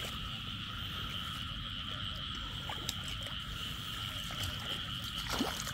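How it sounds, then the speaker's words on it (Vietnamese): Frogs croak steadily through a nighttime outdoor scene during frog catching in the Mekong Delta countryside, a continuous chorus with a few louder nearby calls rising over a constant insect-like drone, no talking. "Con ếch bự."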